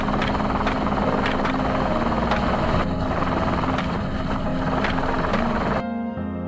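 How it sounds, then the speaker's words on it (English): A helicopter roars loudly with rapid, rhythmic rotor thumping and engine drone, sounding close overhead, then cuts off abruptly near the end. "Helicopters continuously flew over heavily affected zones to monitor from above."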